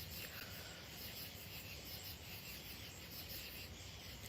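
Crickets chirping outdoors in a dense, continuous high-pitched trill, steady and faint, with no pauses across the whole stretch.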